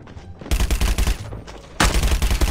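Shotgun fire in the mobile shooter Call of Duty Mobile: two loud bursts of blasts, the first a rapid cluster of shots and the second a sharp heavy report, with no voices.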